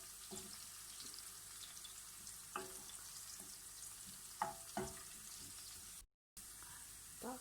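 Onions frying in a pan for Turkish bulgur pilaf, a soft continuous sizzle broken by several stirring scrapes and knocks of a utensil, fairly quiet and with no talk.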